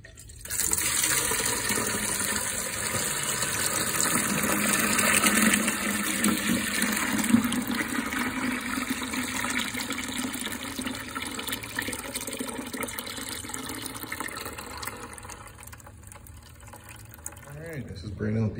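Dirty water drains from a carpet cleaning machine after a pet-hair carpet job, a continuous loud gushing and rushing that runs steadily for most of the time and then cuts off near the end.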